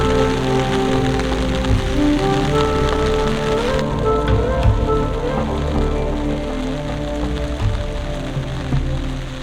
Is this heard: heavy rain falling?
yes